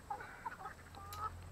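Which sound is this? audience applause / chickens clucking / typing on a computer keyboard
chickens clucking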